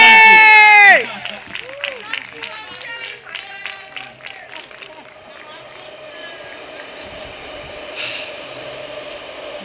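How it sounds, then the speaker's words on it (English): A crowd at a tribute event applauds and cheers after a loud tonal blast in the first second. Scattered clapping follows, then settles into a softer murmur with a brief rise near the end. "Can we give her another round of applause, please?"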